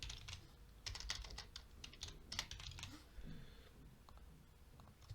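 Python code being typed on a computer keyboard, with quick irregular clusters of clicky key taps over a steady low background hum and no speech.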